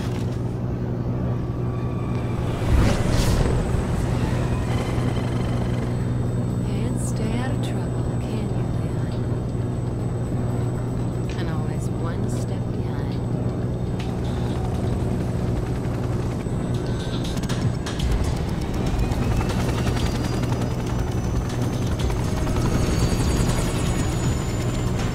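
Steady whirring rotor drone of a helicopter in the Resident Evil 6 video game, a continuous loud hum lasting throughout, with faint game effects layered on top.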